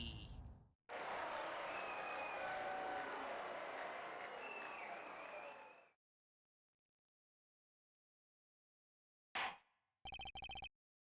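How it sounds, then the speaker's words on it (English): Crowd cheering in a courtroom in the video game Apollo Justice: Ace Attorney, a dense burst of applause and cheers that cuts off abruptly, followed by silence and short electronic beeps. "Like the cheering just suddenly stopped"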